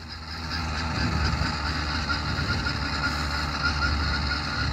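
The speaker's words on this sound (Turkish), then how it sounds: "Motor arkadaşlar hava soğuk olduğu için biraz zorlanıyor." The small engine of a motorized bicycle labours in cold weather with a continuous, rough, low mechanical drone. Its uneven chugging stays fairly loud and close throughout.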